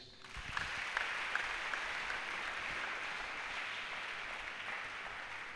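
A church congregation applauds, a dense, steady wash of clapping that swells in and holds evenly at a moderate distance, with faint voices mixed in.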